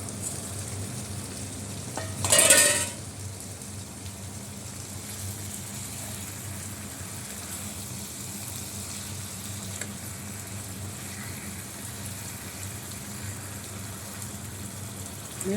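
Three fish, likely small poa fish, frying in a pan with a steady, soft sizzle running throughout, plus one brief louder burst of hiss near the start.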